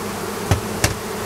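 Honey bees fly near a hive in warm, still weather, with a steady background hum and two brief buzzing passes as individual bees zip close by.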